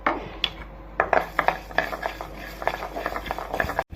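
Rasam spices dry roast in a pan on low heat, with irregular scraping and clinking of a spoon stirring against metal at close range.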